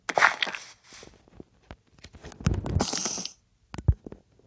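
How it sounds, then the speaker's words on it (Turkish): A burst of skittering, clicking spider noises from Minecraft, with short scratchy bursts and pauses, moderately loud and without speech. "Dışarıda örümcek var."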